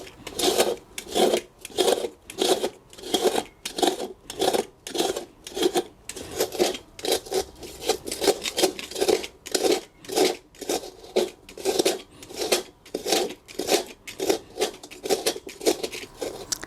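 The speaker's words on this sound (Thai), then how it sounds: "ขูดไปจนรอบเลยนะครับ" Burnt residue being scraped off the bottom of a pan, with rhythmic rasping strokes repeating steadily and closely for over fifteen seconds, no talking.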